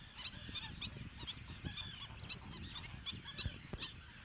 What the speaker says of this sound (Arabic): في هذه المنطقة يوجد العديد من الطيور